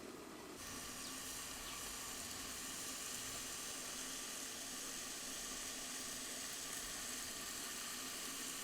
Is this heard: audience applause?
no